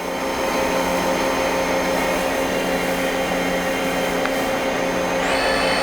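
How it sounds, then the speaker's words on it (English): Live tooling on a Doosan Puma 240MC CNC lathe, a turning center with milling, spinning at around 2500 RPM, a steady mechanical whine with a tone that steps up in pitch near the end and no talking. "It's 2500 on the live tooling."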